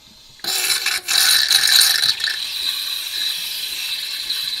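A Nespresso DeLonghi EN520SL coffee machine building pressure during descaling gives off a steady, loud mechanical rattling buzz that starts abruptly, swells briefly, then settles into a continuous drone with no voices.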